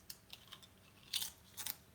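Faint crunching bites on salt and vinegar potato chips, a few quiet crisp crunches followed by two louder ones close to the mic.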